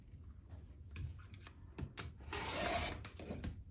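Folded, pressed quilting fabric is cut into a strip, giving a soft, brief scraping and rasping pass amid faint tapping and handling sounds, quiet and close.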